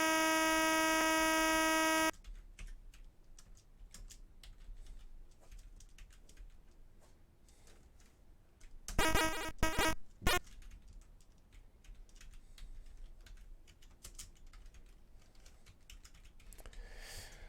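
Soft computer keyboard typing clicks along steadily while composing music in Protracker, under a low electrical hum, with a short steady tone at the start and a few louder bursts midway.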